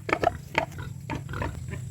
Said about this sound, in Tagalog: Kani guys mo ning butakal.